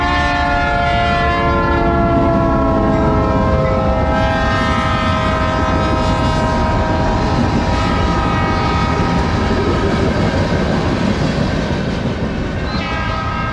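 A train passing close by with its horn sounding loud and sustained throughout, a rich steady blare over rumbling wheels.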